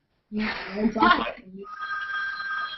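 A telephone rings with a steady electronic tone after a short stretch of people talking, heard close indoors and continuing to the end.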